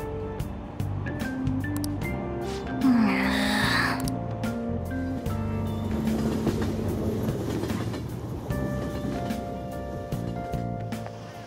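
Train-ride ambience plays in the video game Persona 5 Royal: a steady rumble and clatter of the carriage runs throughout, with chime-like tones and a brief swell of noise layered over it.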